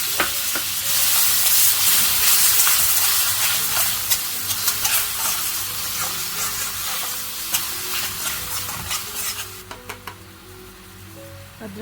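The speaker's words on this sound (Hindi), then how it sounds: "इसको हमें तब तक फ्राई करना है जब तक कि इसमें से ये ब्राउनिश ना हो जाए ऑनियन" Onions and ginger-garlic paste fry in oil in a pan, with a loud steady sizzle and spatter close by, mixed with stirring scrapes, and the sizzle softens toward the end.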